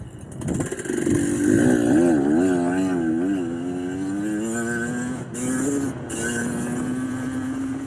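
A carbureted motorcycle engine revs hard and close, its pitch climbing and wavering through repeated throttle blips before settling into a steady high drone.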